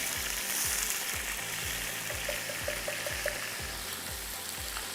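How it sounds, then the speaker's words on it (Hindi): Onion and garlic sautéing in a pan, a soft steady sizzle running throughout with regular low thumps and light scraping from stirring, fairly quiet and close. "एक पैन में आपने प्याज और लहसुन को सौते किया"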